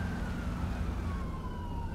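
Wailing ambulance siren in GTA V with the LSPDFR mod, a steady rising and falling tone at moderate distance over low traffic rumble, no talk.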